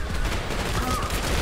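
Rapid gunfire from a DMR rifle in the shooter video game Trepang2, a dense continuous rattle of shots over a loud, busy game mix for just over a second.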